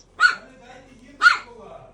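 A female dog at home barks twice, about a second apart: two short, sharp, fairly close barks over a quiet background.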